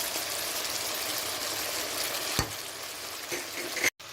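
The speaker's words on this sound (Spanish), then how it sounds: "y vamos a mezclar todos estos ingredientes" Ingredients for oxtail in red wine sauce are stirred together in a pot, with an even sizzling, frying hiss throughout, a soft scrape partway through and a brief clunk near the end.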